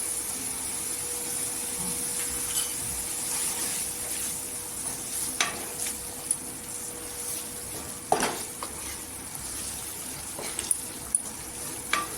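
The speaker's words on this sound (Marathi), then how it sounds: "तेलावर आहे ना एक दोन सेकंड आपण हे परतून घ्यायचं मसाले" Spices frying in oil for a rustic Maharashtrian brinjal curry, a faint steady sizzle with occasional clinks and scrapes of a spoon against the pan, no talking.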